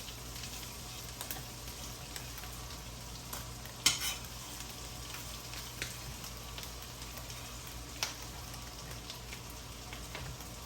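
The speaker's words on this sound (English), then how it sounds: "you want to saute the garlic quite a bit" Garlic sautéing in a pot for shrimp scampi, a faint, steady low sizzle with light stirring scrapes and an occasional louder clink of a utensil, no talking.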